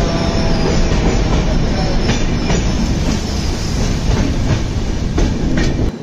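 A train rolls past Dudhsagar Falls in heavy rain, giving a steady, loud roar of wheels and running gear mixed with rainfall, with faint rail clicks and no voices, running unbroken throughout.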